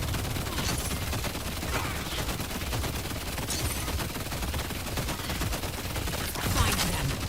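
Sustained rapid gunfire from Wraith in the video game Paragon, a dense continuous stream of shots with crackling impacts and game ambience underneath.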